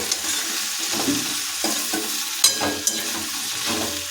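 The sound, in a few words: stirring potatoes, beans and eggplant with chikni greens by hand in pan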